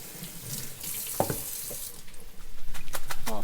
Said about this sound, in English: Give a little rinse to the noodles.